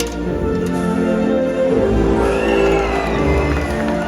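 A stadium audience at SeaWorld Orlando's Orca Encounter cheers as an orca leaps from the water. Steady crowd shouting and whooping fills the space, with a musical soundtrack playing underneath.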